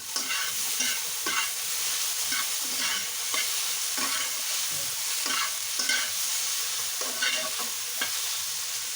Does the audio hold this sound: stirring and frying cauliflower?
yes